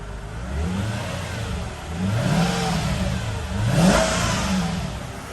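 A supercharged Mercedes V8 engine in a 2003 Mercedes SL500 runs and revs, its deep rumble rising and falling in pitch twice over a steady idle, close and loud.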